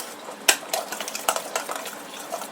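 Seasoned chicken with black pepper being mixed together in a bowl, irregular close clinks and scrapes of utensil on dish with soft wet stirring sounds between them.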